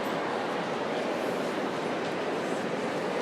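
A subway train rumbling steadily through a station or tunnel, a broad continuous roar at moderate volume with no clear breaks and no talking.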